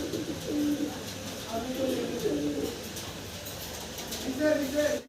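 Domestic pigeons kept for sale coo in repeated soft, low, throaty phrases from nearby, sounding under and between a man's conversational speech.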